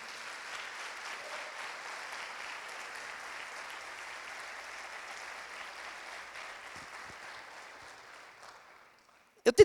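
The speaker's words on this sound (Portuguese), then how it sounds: "Aplauda Jesus por isso." Church congregation applauding Jesus, a soft, distant, even patter of clapping that holds for about eight seconds, then fades out before a sharp sound at the very end.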